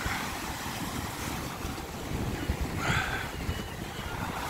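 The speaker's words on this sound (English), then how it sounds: "I know a lot like to hear the sound of the sea though" Sea waves crash against the Blackpool promenade in a steady, loud wash of surf, with blustery wind buffeting the microphone and a few heavier surges breaking through.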